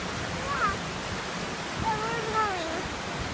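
Thunderbird Falls waterfall roars as a steady broadband rush of falling water throughout, with a family's voices talking over it close by.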